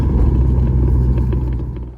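A 1968 Pontiac Firebird under rebuild, driven without seats, produces a steady low engine rumble heard from inside the car, continuous and fairly loud, easing slightly toward the end.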